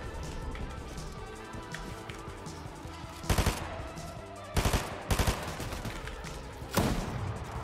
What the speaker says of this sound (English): They're sniping us